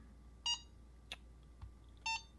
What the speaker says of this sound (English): beeping, because it really is kind of annoying